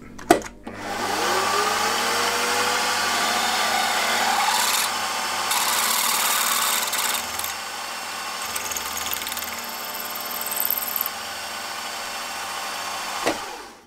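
A 7.8mm drill bit cuts through a metal connecting rod for a model opposed twin engine, a steady machine whine with scraping and grinding texture that shifts in intensity and then stops.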